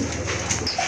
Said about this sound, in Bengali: এটা হচ্ছে এক জোড়া কালো বোম্বাই কবুতর, হিউজ সাইজের কবুতর, ইন্ডিয়ান বোম্বাই কবুতর